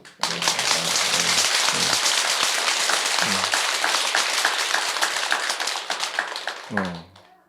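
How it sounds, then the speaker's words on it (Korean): An audience at a Buddhist lecture breaks into loud, sustained applause that fades out near the end, with brief spoken words at the start, middle and close. "그럼 박수로 한번 쳐주세요"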